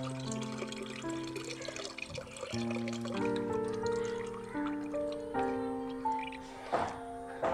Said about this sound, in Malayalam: ഇത് നമുക്കൊന്ന് അരിച്ച് നമുക്ക് ഒഴിച്ചു കൊടുക്കാം.